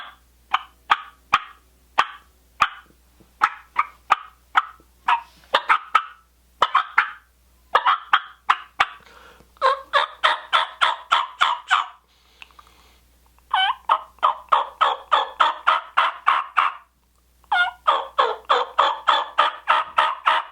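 Turkey gobbles made on a Bone Collector Georgia Peach mouth call ring out in rapid rattling bursts, repeated in clusters, close and loud with no talking.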